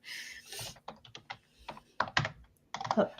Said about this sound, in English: typing words